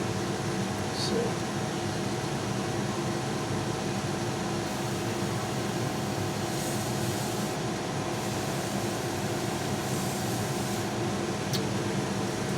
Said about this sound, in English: I'm going to put on the fan so it's going to get a little noisy.